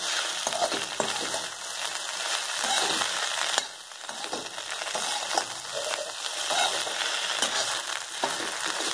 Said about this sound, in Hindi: धीरे से चलाते हुए हम भिंडी को और मसालों को मिक्स करेंगे और इसे फ्राई करेंगे